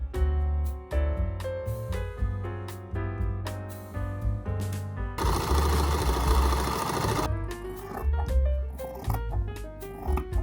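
A sewing machine stitching French seams on the pockets of a handmade 1960s party dress, running in fast rhythmic bursts with brief pauses, close and steady, with no speech.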